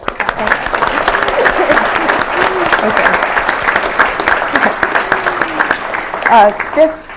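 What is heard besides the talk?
audience applause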